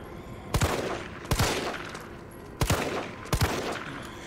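Gunfire in the Resident Evil 3 Raccoon City demo: four sharp shots in two pairs, loud and close, each with a short crack and brief decay over a quiet game background.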